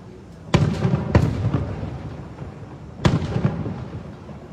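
Fireworks bursting over the East River in New York City: three sharp, loud booms with echoing tails roughly half a second to two seconds apart, set against a steady rumble of crowd and street noise.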